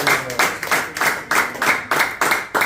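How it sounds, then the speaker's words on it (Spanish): Loud rhythmic clapping from a congregation at an evangelical church service, steady bursts roughly every half second, close and continuous throughout. "Den un fuerte aplauso al Señor."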